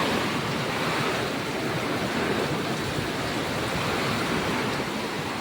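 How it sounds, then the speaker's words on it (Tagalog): A loud, continuous roar of strong wind gusts and heavy typhoon rain during Typhoon Kristen in the Bicol region, a dense wash of noise that holds steady without letup and no voices. "Yung bugso ng hangin at sobrang daming dalang ulan."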